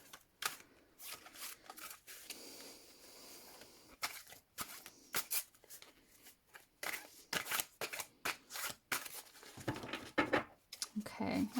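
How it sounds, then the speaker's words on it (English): Quick bursts of tarot cards riffling and snapping together, repeated in short crisp runs with small pauses between, close up and fairly quiet. "I was just giving a quick shuffle"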